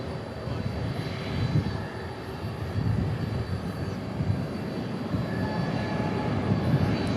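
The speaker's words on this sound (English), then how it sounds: "Next arrivals, Envoy 3574 from Harlingen." An Envoy regional airliner arriving at Dallas Fort Worth International Airport gives a steady, low, rumbling engine roar that swells slightly but stays constant throughout, with no talking.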